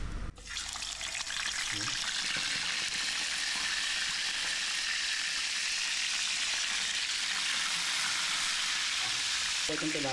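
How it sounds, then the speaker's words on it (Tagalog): Tilapia fries in hot oil with a steady, bright sizzle that starts suddenly and continues close and loud throughout, with faint kitchen clatter beneath. "Habang nagpiprito po ako dito"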